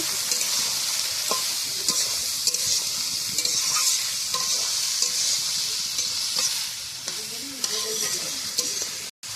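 Carrots frying in a pan, stirred with a utensil, give a continuous bright sizzle with scattered scraping and knocking strokes, loud and close.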